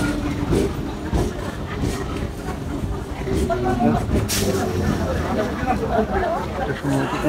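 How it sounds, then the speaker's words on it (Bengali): A train rushes past at high speed, a continuous rumbling roar with rhythmic clatter, heard under someone talking and a background crowd murmur. "কি দ্রুত গতিতে ট্রেন পার হয়ে যাচ্ছে"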